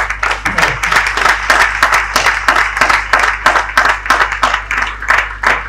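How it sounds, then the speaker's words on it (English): Warm applause from an audience at a formal luncheon honouring a knight, a steady, dense patter of many hands clapping in a room, loud and even throughout with no speech over it. "Please help me with a round of applause."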